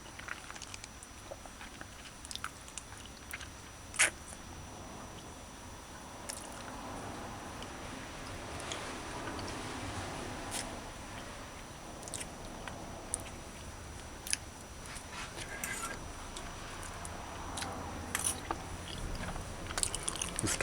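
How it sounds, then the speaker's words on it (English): Grunt fish skin, steamed in ketchup with okra, chewed and bitten close to the mouth: soft, wet, irregular chewing with occasional sharper bites over a steady low background. "So what I do is just suck it and chew it and probably throw it out."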